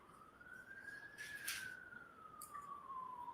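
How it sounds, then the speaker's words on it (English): A single emergency siren wails faintly in the distance, one long rising and falling tone sweep over background hiss, played back as an exhibit in a courtroom. "Here we go with sirens."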